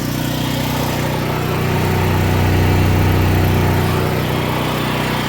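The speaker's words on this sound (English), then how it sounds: "As you can see, the generator is missing. Can you hear that?" A small backup generator engine runs nearby with a steady, droning hum and an uneven, slightly rough running note throughout, no talking over it.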